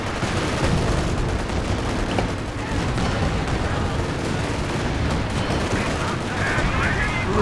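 Indirect artillery fire in the Company of Heroes 2 war strategy game, a dense continuous wash of booms and gunfire rumbling loudly throughout a chaotic 4v4 battle.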